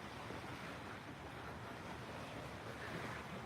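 Ocean waves washing onto a sandy beach during a morning walk, a steady broadband roar of surf with wind noise on the microphone, continuous and moderately faint throughout, no talking.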